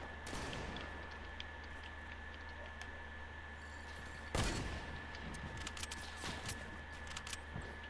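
Gunfire in the Fortnite video game, a steady busy crackle of shots with a loud sharp burst near the middle and scattered pops after, over a constant background hum.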